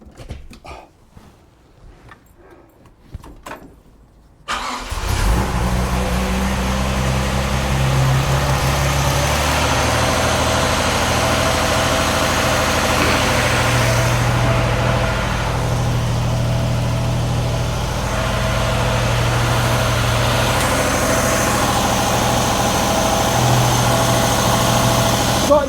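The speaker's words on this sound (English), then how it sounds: "rev the car to 2000 revs" A car with a freshly installed engine holds a steady idle-like drone at about 2000 rpm during cam run-in, loud and constant after a few seconds of quieter handling noise at the start.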